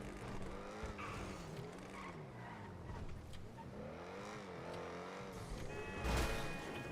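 Fast car in GTA 5 racing hard, the engine rising and falling through gear changes with tire skids and a sharp crunch near the end, steady and close.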